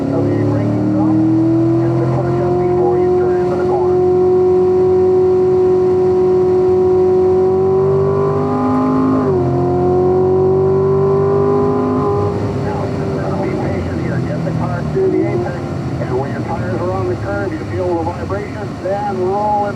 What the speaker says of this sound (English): Then roll into the throttle, accelerate out to the exit curve.